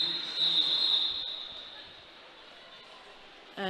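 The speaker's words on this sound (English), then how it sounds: "the whistle has gone as they receive some medical attention" A referee's whistle at a roller derby game sounds as a steady shrill tone for about a second, then fades under a noisy venue hum.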